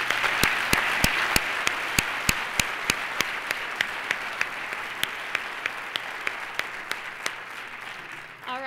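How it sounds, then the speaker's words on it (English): An audience at a Junior Miss pageant gives the contestants a long round of applause, a full crowd clapping steadily while one nearby pair of hands claps in sharp, regular beats above it before the sound tapers off. "Let's give them all one more round of applause."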